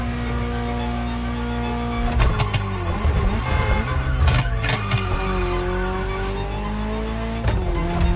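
A Ferrari GTO sports car in the Motorfest racing game roars up through the revs with rising engine pitch, broken by sharp gear shifts and brief tire squeals, loud and close throughout.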